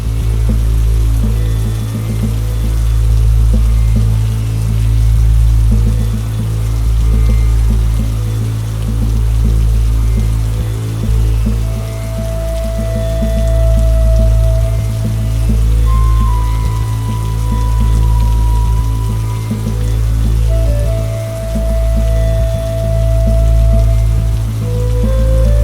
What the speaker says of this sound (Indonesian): Hujan rintik menyapa kaca depan mobil saya saat melintasi jalan sempit